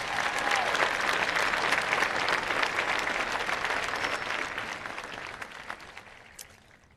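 A large crowd applauds at a 2023 Franklin High School graduation ceremony. Thick, sustained clapping starts loud and steadily fades away, with no talking over it.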